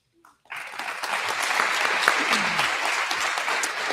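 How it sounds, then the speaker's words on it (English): Audience applause at the Jackson County Fair coronation for Miss Jackson County and the Fairest of the Fair courts, beginning abruptly after a brief pause and continuing as a steady, dense wash of clapping from a large crowd. "One more round of applause for our current Miss Jackson County and Fairest of the Fair courts"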